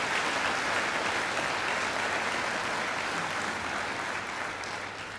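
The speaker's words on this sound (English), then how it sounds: "they deserve a great round of applause too." A packed hall at a Macquarie University graduation ceremony gives loud, continuous applause, a thick uniform roar of clapping that holds steady and tapers slightly at the end.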